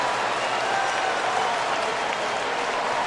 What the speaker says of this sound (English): The crowd reacted to the replay.